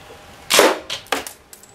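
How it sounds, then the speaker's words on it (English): A non-lethal paint round fired from a rifle at 21 feet gives one sharp, close crack, followed by a couple of fainter clicks and knocks as the mechanism settles. "then we're going to do the rifle with the 21 feet and with the jacket on."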